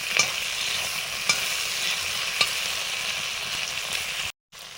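Potatoes and tender kohlrabi leaves fry in a spicy masala in a pan, giving a steady close sizzle broken by a few sharp clinks of stirring, and then the sound cuts out briefly near the end.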